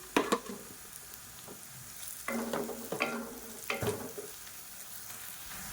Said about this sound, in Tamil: இப்போ பாருங்கள், வெங்காயம் நல்லா வதங்கிடுச்சு